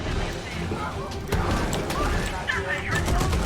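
A bomb goes off in the shark game Maneater: one sharp blast stands out against a dense, steady bed of game noise and water rumble, with a voice talking over it.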